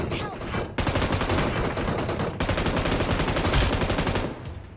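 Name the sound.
gunfire in a video game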